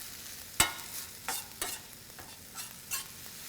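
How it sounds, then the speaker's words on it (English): Shredded bok choy stir-frying in a pan: a soft background sizzle broken by five or six sharp scrapes and tosses at uneven intervals, fairly close. "Almost a stir-fry method."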